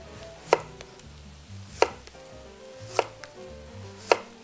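A knife cuts celeriac into slices on a board, four sharp, evenly spaced thuds about a second apart, close and distinct against a quiet kitchen background.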